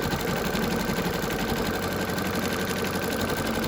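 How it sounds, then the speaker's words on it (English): An embroidery machine stitches a gingerbread cookie ornament, its needle running in a fast, steady mechanical chatter at close range with no pauses. "this is just going to stitch the front to the back"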